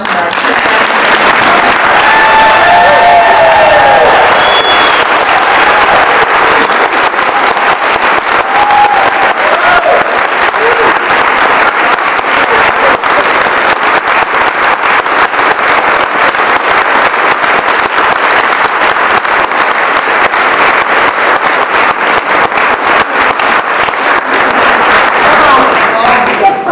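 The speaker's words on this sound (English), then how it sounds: "So let's give a big round of applause for our" A large luncheon audience gives a long, loud, sustained round of applause at an award presentation, steady clapping filling the room for nearly half a minute with faint voices mixed in.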